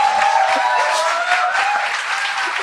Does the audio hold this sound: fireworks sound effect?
no